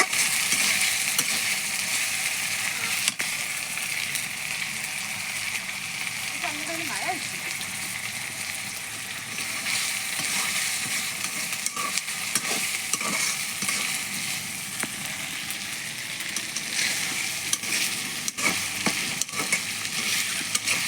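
A pan of buri fish frying in oil gives a continuous loud sizzle and crackle that runs unbroken throughout, close up.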